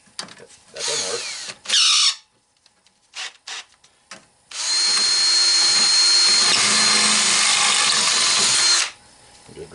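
A power drill bores out rivets on a scrap shop fan that has a copper motor, starting with short stuttering bursts and bits of handling noise, then running in one long, loud, close whine before stopping.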